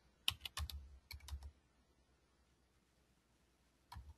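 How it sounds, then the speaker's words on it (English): An address typed on a computer keyboard: two quick bursts of crisp, close key clicks, then a pause and a final tap or two, in a quiet room. "if I wanted to type in an address"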